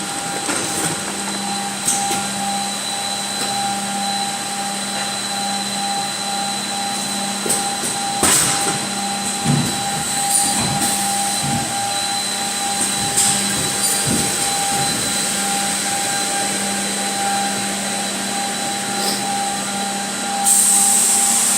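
A HOMAG Profi KAL 3106A20 edgebander runs in a workshop, applying a half-millimetre edge with the glue unit open, giving a continuous loud mechanical drone with steady tones and intermittent clunks and knocks throughout.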